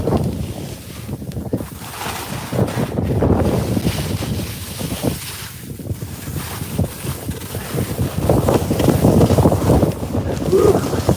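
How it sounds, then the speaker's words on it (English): Skis sliding downhill on wet snow on a warm, windy day, a continuous rough swishing scrape that swells and fades with turns, close and loud, mixed with gusts of wind buffeting the microphone. "I'll just let you listen to skiing for a minute."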